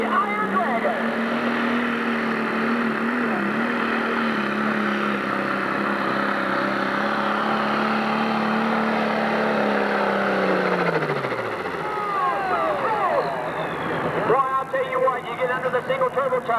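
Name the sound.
John Deere 4430 pro stock pulling tractor engine revving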